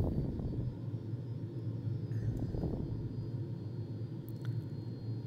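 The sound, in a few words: Fouga Magister jet aircraft engine in a flight simulator game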